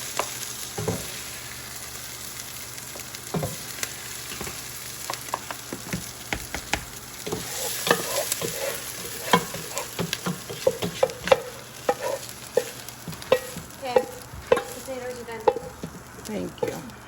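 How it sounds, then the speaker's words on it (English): Fried onion mixture is scooped out of a pot with a utensil, giving soft scraping and stirring clicks over a faint background sizzle, close and fairly quiet, with no talking. "now I'm going to take my little onion mixture here out of my pot"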